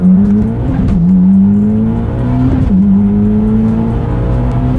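A Mitsubishi Evo accelerates hard and close, its engine note climbing in pitch, dropping briefly at a gear shift, then rising again, loud and steady with no talking.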